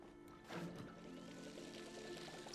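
Watering can tipping water onto crops in the farming game Palia, a steady trickling pour that swells after a soft start and runs on evenly to the end, close and moderately loud over faint background music.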